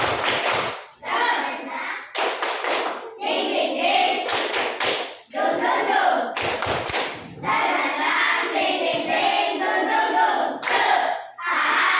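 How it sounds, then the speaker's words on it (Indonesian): A classroom of students does a rhythmic spirit clap, bursts of loud synchronized clapping alternating with shouted chanting voices, repeated in several rounds. "semuanya tepuk semangat"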